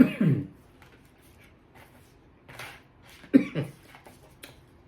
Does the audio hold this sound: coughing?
yes